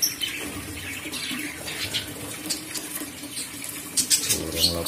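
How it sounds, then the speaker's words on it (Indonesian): Lovebirds in a breeding cage chirp in rapid, overlapping high tweets at close range, with a running water-like hiss beneath them and no talking. "Burung lovebird ini dia."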